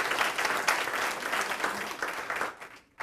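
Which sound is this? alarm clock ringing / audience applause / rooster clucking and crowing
audience applause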